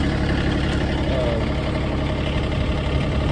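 A 2019 Exmark zero-turn mower with a 96-inch deck and electronic fuel injection runs nearby, its engine holding a steady, loud idle with a constant low mechanical hum.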